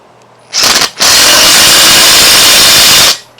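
A power tool tightens a 5/8 nut during sector and pinion gear reassembly on a John Deere 120 lawn tractor, with a short burst followed by a longer loud continuous whir very close up.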